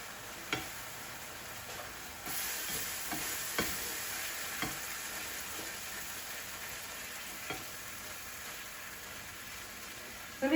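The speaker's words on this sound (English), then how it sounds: "you just stir it kind of fast till you get it to the consistency you want it" Southern-style sausage gravy is stirred quickly in a pan, a soft steady bubbling sizzle broken by the scattered scrapes and taps of a utensil against the pan, quiet and close.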